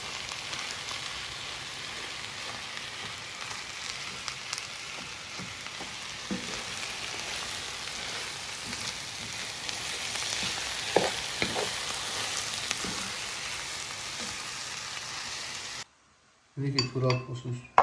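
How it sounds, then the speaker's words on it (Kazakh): A potato cutlet mixture with seasoning fries in a pan, giving a steady loud sizzle broken by scraping stir strokes for most of the stretch, then stopping abruptly near the end before a few brief knocks. "араластырып, тағы қуыратын боламыз."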